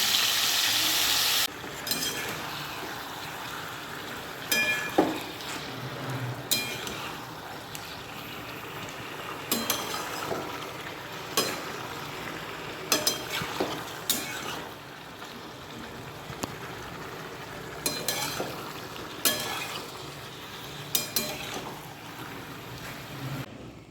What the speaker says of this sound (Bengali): বেশি ভাজবো না অল্প একটু ভাজবো